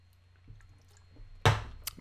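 A swig of a fizzy drink: a quiet fizz and faint liquid sounds, then a sudden loud gulp near the end followed by a sharp short sound, close to the microphone.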